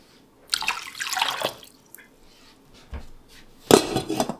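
Kernza grain being rinsed in water to float off straw and dried grassy bits, with splashing and sloshing in bursts, a pause, then a louder close splash near the end.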